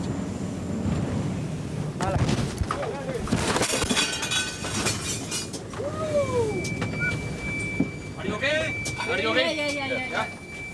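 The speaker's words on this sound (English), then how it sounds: "In the dark, we've crashed into a series of massive waves made deliberately by the narco boat to evade the police." A police boat crashes at speed through a series of massive waves at night, heavy thuds and bursts of spray and wind roar, with shouting and agitated voices over the chaos.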